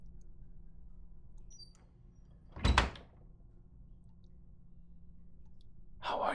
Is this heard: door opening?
yes